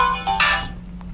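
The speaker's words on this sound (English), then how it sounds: "you're going to hear it ringing through the speaker of the Nighthawk" A phone call rings through the speaker of an AT&T Nighthawk paired to a phone, a short electronic ringtone burst that fades out with a steady low hum underneath.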